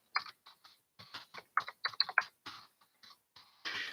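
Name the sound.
typing on a computer keyboard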